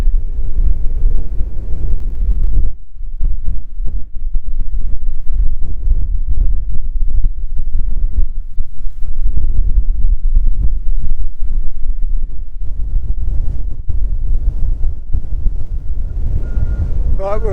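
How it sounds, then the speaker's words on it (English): Strong gusty wind buffets the microphone on an exposed mountainside in the Moelwyn Mountains, a loud, rumbling roar that continues throughout with brief lulls. "we're a bit windy and exposed around here"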